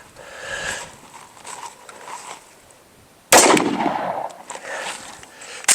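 A single sharp, loud rifle shot from a PSA rifle striking a hardened steel helmet, cracking abruptly after a few seconds of quiet outdoor ambience and ringing briefly, with a second report beginning right at the end.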